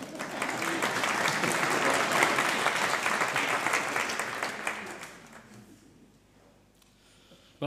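Church congregation applauding at a Sunday service, a dense sustained round of clapping filling the room for about five seconds before thinning out and fading to near silence.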